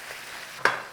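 Onions cook in a pan, boiling and frying with a soft sizzle and one brief stirring scrape near the end.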